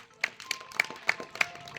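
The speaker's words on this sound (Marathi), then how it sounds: "चला राहुलसाठी टाळ्या वाजवा" A group of children clapping for a boy named Rahul, a few separate sharp claps spaced unevenly over a short moment, close and fairly light.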